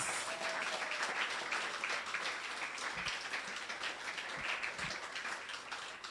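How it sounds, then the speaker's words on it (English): Sustained applause from a sizable audience at a conference opening ceremony, a dense, even wash of clapping that holds steady throughout without voices on top. "give another round of applause."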